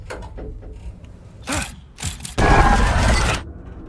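Alice's photo equipment, rigged to fire when the door opens, goes off in Alan Wake 2: quiet mechanical ticks, then two sharp bursts and a loud, sustained flashing whoosh lasting about a second.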